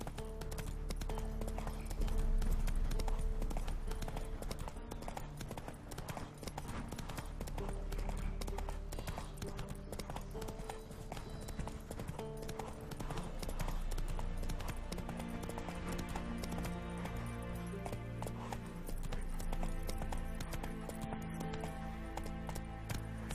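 Horse hooves clip-clop at a gallop in a video game, a rapid continuous drumming rhythm close by, with faint bits of voice in the background.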